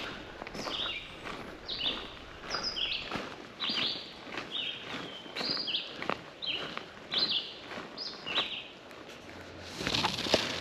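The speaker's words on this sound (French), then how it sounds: "on va traverser une partie de la canopée avec les différents chants d'oiseaux" Birds call in the forest canopy of a nature park on Île Bizard, giving a string of short, evenly spaced chirps at moderate distance over soft rustling and footstep-like sounds.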